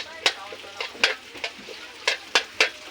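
Onions being stirred in a pan with garlic: sharp, distinct scraping strokes of a utensil at irregular intervals over a light sizzle, close by and without talk.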